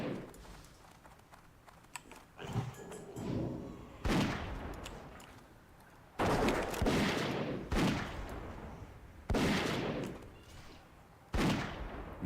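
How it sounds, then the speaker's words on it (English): Doom Mortar firing in World of Warcraft, a series of sharp booming blasts every second or two, each followed by a rumbling tail, loud and close with no voices. "Let's try this Doom Mortar thing again here."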